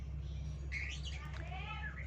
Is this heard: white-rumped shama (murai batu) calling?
yes